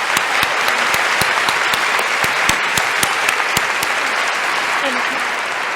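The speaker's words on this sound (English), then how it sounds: "let's give everybody a round of applause" An audience claps for a panel in a steady round of applause that runs the whole stretch and fades slightly near the end. A voice briefly speaks near the close.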